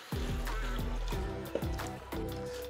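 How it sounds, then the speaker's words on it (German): Water poured over spaghetti in a pot for a vegan one-pot pasta with zucchini and mushrooms, a bubbling, gurgling trickle in repeated glugs, close and moderately loud with no talk. "Jetzt kommen unsere Spaghetti rein und wir gießen alles mit unserem Wasser auf."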